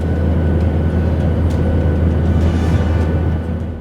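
A plane descends toward Hong Kong airport between city buildings, its loud, steady engine roar with a low rumble holding for several seconds and easing slightly at the end.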